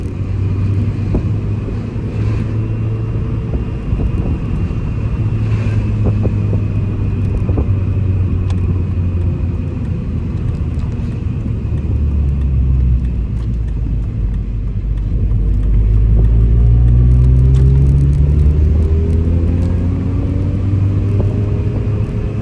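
A car driving steadily on an open road shortly after a clutch replacement, its engine a low steady rumble from inside the cabin that shifts in pitch as it speeds up, with road and tire noise throughout and no talking.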